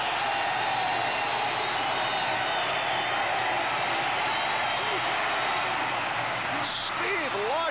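A crowd roaring at a 1984 NFL game between the Denver Broncos and Seattle Seahawks, a thick, continuous wash of stadium noise at steady volume, with speech faintly mixed in.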